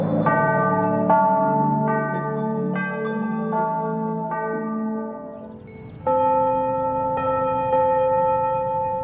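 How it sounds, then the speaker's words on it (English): Church bells ring out in a Christmas cartoon, a series of clear, resonant tolls with long overlapping decay, loud and alone with no voices, a fresh strike arriving roughly every second. "I hear the bell, Miss Shepherd."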